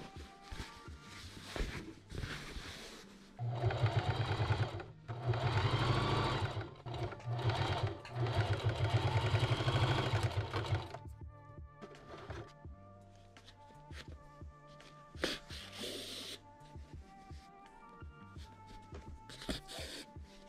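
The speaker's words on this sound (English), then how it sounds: "I sewed it down with my sewing machine." A sewing machine stitching denim runs in several bursts of rapid mechanical stitching, loud and close, with brief pauses and lighter handling clicks in between.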